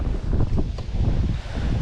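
Wind buffeting the microphone on a lake while bass fishing from a Hobie Pro Angler kayak, a steady low rumbling roar with gusty swells and faint rustle, loud and continuous throughout, no talking.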